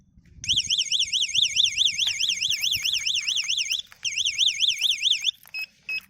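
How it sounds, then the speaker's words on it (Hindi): A bicycle WiFi smart lock's alarm blares a loud, warbling electronic siren, cycling rapidly up and down in pitch, with a short break partway through and a few brief beeps at the end. "चलो लॉक किया है, एक बार साउंड भी अच्छा है, काफ़ी लाउड है।"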